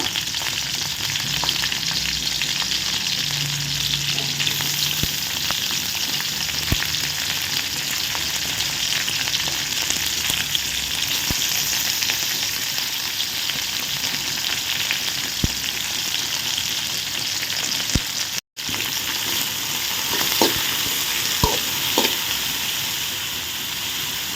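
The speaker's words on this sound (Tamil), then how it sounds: "வெங்காயம் நல்லா வதங்கட்டும்" Onions and curry leaves fry in a pan for a drumstick curry, a loud, continuous close sizzle with occasional stirring clicks and one brief dropout.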